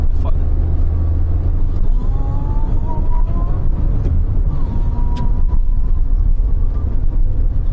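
Nissan March 1.0 SV engine droning steadily while driving, with low rumble and road noise inside the cabin and a few faint tonal whines, no speech heard.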